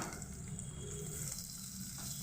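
Chopped onion fries gently in a pan for katla fish kalia, giving a soft, steady sizzle with a faint background hiss and no voices.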